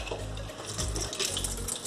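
Water draining off soaked mung beans in a home sprouting setup, a steady continuous splashing pour lasting the whole moment, close and fairly loud with no talking.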